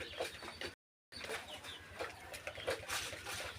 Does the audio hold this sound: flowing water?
no